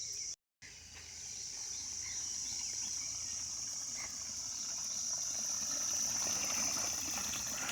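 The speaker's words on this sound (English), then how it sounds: "at this location you can hear the water gushing in" Sewage and rainwater rush into a flooded area continuously with a steady broadband hiss, plus a thin high insect-like whine, briefly cut out near the start.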